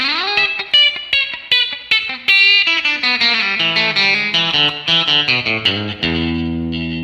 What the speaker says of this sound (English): The last lick of the solo sounds like this.